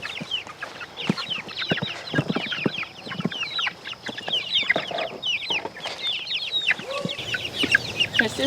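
Young Fabricana crossbreed chickens, just over five weeks old, clucking and peeping in a backyard flock, a busy chatter of many short calls close by, continuing throughout without talk.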